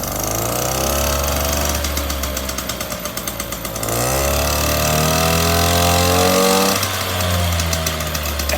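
A Motobecane moped engine revs up and down close by, a loud buzzing drone that climbs in pitch, eases off, then surges again with rattly, smoky roughness.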